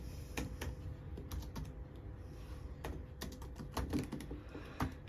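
Python code being typed on a computer keyboard, heard as irregular bursts of fairly quiet key clicks and taps, alone without talking.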